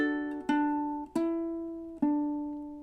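A ukulele plays a measure of a song, mixing strums and thumb-picked notes: four bright, clear attacks in a steady rhythm, each ringing out and decaying before the next, played alone and close.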